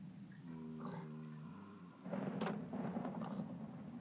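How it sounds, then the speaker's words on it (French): Thunderstorm in the modded Minecraft game SkyFactory: a low tonal grunt, then a loud rumbling thunder crash that rolls on to the end. "Oh la vache, l'orage il me fait flipper."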